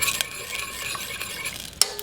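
Butter melting and starting to boil in a pan for brown butter, stirred with a utensil: steady soft scraping and faint sizzle close up, with a sharper clink of metal near the end, no voices.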